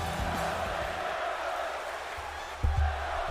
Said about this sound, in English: This audience already cheering